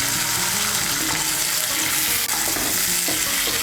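Green chilli and cumin paste frying in a pan, with a splash of water added for a pabda fish and brinjal curry. A steady, close sizzle runs throughout alongside stirring and a watery hiss, with no talk.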